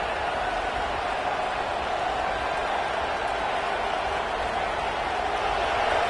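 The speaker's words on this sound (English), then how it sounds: "Listen to the crowd energy here in the early going." A steady, dense stadium crowd roar at a college football game in the video game College Football 26 fills the space at an even level, broad and continuous, with no distinct voices rising above it.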